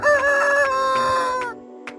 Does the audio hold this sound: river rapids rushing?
no